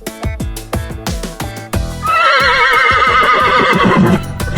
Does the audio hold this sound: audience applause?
no